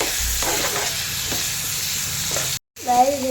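Sliced onions frying in a pan, a steady crackling sizzle with faint stirring scrapes, broken by a brief dropout near the end before the sizzle resumes alongside a short tonal sound.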